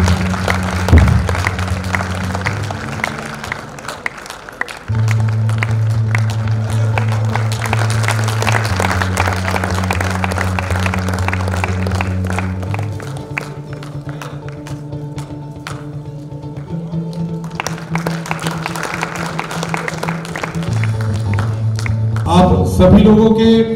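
Steady audience applause at an awards ceremony honouring two guests, a sustained patter of many hands clapping in a hall under tonal background music, swelling briefly near the end.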